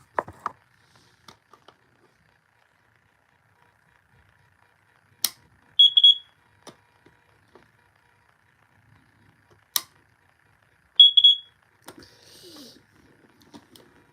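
Kidde smoke detector sounding two short bursts of high chirping beeps several seconds apart, amid near silence with scattered faint clicks and taps, no talking.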